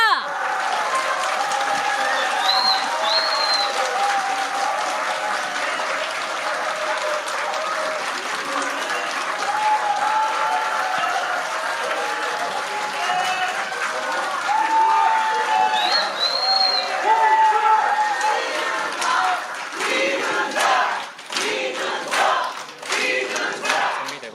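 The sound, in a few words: crowd applause and cheering at a political rally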